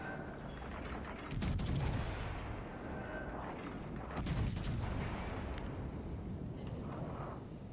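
Full gun salvos from the German battleship Bismarck in World of Warships Legends: two heavy booming volleys a few seconds apart, each a deep blast with rumbling decay over a steady naval background.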